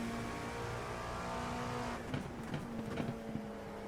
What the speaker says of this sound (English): That hypercar coming through really slowed us down